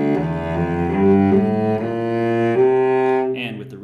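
A short melodic run in the Adonai Moloch klezmer mode with a flat seventh, a rich sustained instrumental line moving step by step, heard up close with no talking.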